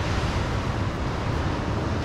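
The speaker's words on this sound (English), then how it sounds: "And there were some waves breaking there" Ocean waves breaking near the shore, a dense continuous wash of surf roar mixed with wind buffeting the microphone, steady and loud with no talk.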